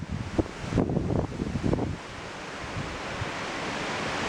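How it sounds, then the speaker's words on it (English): Gusting winds of around 50 miles an hour roar against the microphone, with heavy buffeting bursts at first that settle into a constant loud rushing. "yeah, it's windy."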